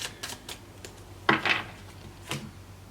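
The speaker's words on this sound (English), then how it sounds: "I'm also going to keep shuffling here." Tarot cards being shuffled by hand indoors, a handful of soft papery riffles and taps spaced out, with two louder snapping shuffles in the middle, close and fairly quiet.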